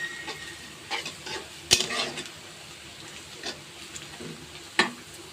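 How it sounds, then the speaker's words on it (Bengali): Onions frying and browning in a pan, a faint steady sizzle broken by a few stirring scrapes and one or two sharper clinks of a utensil. "পেঁয়াজটা বাদামি কালার করব।"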